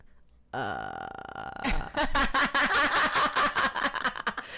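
A voice imitates a long, strained burp, first a sustained guttural drone, then a rapid series of loud, choppy pulses, close and fairly loud with no other talk.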